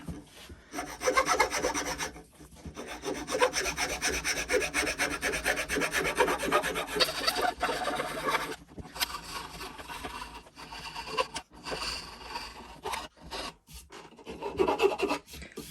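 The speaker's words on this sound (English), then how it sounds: "a wee bit of file work, you know, because they'll just... I just got to use, I've got my circle one and then my half circle one" Round and half-round hand files rasp against wood while a chisel holder is being shaped, producing long runs of close, rhythmic scraping strokes with a few brief pauses and no talking.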